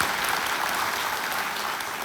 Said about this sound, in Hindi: अभिनंदन तालियों के साथ